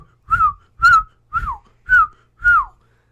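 Five short, bright whistled notes in a steady rhythm, each gliding downward in pitch, close and loud with clean pauses between them.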